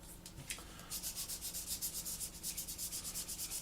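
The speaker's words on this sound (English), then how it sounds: "you're just literally rubbing very lightly over, and then you'll find the mask oil will just drag out" Light, steady rubbing on a 1/48 Airfix Sea Vixen model's fuel tank to chip back masking fluid, a close, soft scratchy stroke repeated in a quick even rhythm, alone and without talk.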